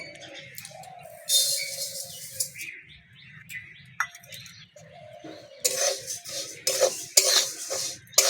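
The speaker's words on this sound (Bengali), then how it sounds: "একশো গ্রাম মুগের ডাল নিয়েছি শুকনো খোলায় ভেজে নেব" Moong dal dry-roasting in a pan with no oil, giving intermittent scraping and clinking as it is stirred, with bursts of dry rattling hiss; faint bird chirps sound in the background.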